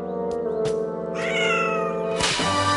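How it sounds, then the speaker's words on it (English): A cartoon cat meows and caterwauls while stuck under stairs, its cries rising and falling over a busy animated soundtrack, close and fairly loud throughout. "I can't rescue my cat. He's stuck under the stairs."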